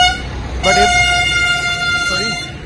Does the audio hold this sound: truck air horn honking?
yes